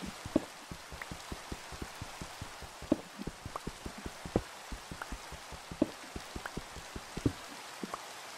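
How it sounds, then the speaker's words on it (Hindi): Rain in the Minecraft video game, heard as many separate droplet taps in an uneven patter, fairly quiet and steady with no talking. "या बारिश हो जाती है यार"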